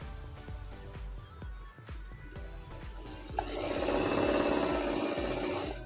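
A Janome 385 home sewing machine driven by a foot pedal stitches in fast regular needle strokes, close and clear, then shifts into a smoother continuous whir as the motor speeds up.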